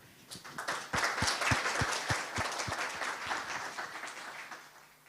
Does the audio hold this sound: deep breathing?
no